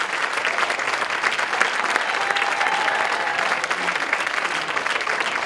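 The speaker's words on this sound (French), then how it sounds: "Applaudissez bien fort, Monsieur Jeremy James." Steady, dense audience applause at a live comedy show in Royan, welcoming a comedian to the stage; loud, continuous clapping from a full room with faint crowd voices underneath, lasting throughout.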